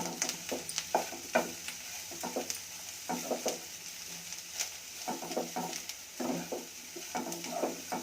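Vangi bath mixture frying in a pan, stirred with a spoon in repeated scraping strokes over a steady close sizzle, with no voices.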